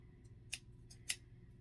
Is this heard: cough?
no